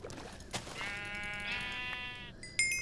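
A sheep in a blocky survival video game lets out one long, wavering bleat close by, followed by a short burst of game sound effects at the end, with no talk.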